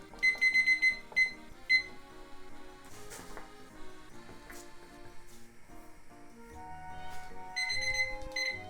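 A kitchen timer beeps in quick bursts, a few rapid electronic rings near the start, then again near the end, over background music and kitchen clatter.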